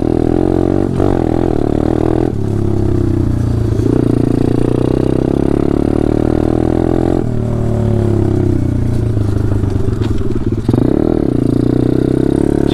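A pit bike ridden continuously, its small engine droning loud and close with shifting pitch as the throttle rises and falls, plus some rattling and wind noise throughout.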